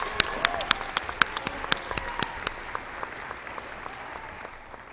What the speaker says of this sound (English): I think we need one more rousing round of applause for our graduates